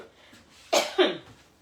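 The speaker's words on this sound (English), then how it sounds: "I don't know why I had to cough" Two sharp coughs from a person close by, set a moment apart, in a quiet home kitchen while baking mini heart cakes.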